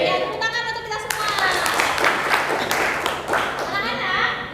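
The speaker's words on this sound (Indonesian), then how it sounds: "Ya, tepuk tangan untuk kita semua." Group applause from a classroom of children, dense clapping with excited young voices chattering and calling out throughout.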